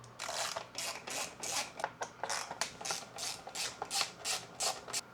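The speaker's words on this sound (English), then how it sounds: "I'm just gonna be using this little mini ratchet and we're gonna get it all disassembled" Mini ratchet with a T10 Torx bit removing screws during an F-150 dashboard display install, producing a rapid series of close, crisp ratcheting clicks in short bursts, with no talk.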